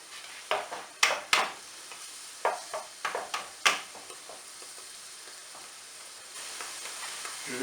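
Mushrooms sizzling in a frying pan, soft steady crackle punctuated by a series of close clinks and scrapes as they are stirred or dropped back in, then a building hiss.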